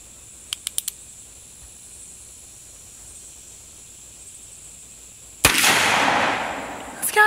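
A .357 Magnum Uberti Cattleman revolver fires one loud, sharp shot with a long fading echo, followed by a shorter burst at the end. A few faint clicks come earlier over quiet background hiss.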